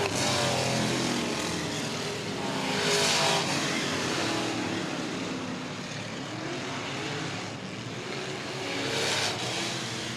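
Race cars roaring around the South Texas Speedway oval, engines swelling loudly as cars pass close by, then fading and rising again in repeated passes with no voices.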